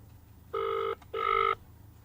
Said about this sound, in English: I'm going to try and phone him from my cell phone. It's ringing.